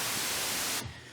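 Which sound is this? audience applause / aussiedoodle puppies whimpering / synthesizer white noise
synthesizer white noise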